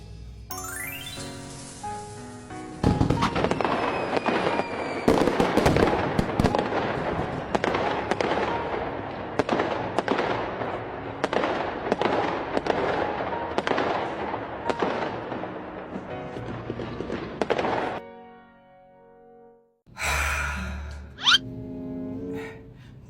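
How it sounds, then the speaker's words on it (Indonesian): A long barrage of fireworks goes off in rapid succession, dense cracks and bangs overlapping with whistling streaks, loud and close, then a short pause before a few final bursts and crackles. "bodyguard hidupin kembang apinya sekarang ya."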